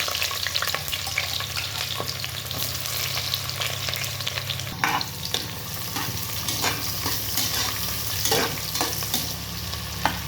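Onions sizzle and crackle steadily in hot oil, with occasional scraping as they are stirred in the pan.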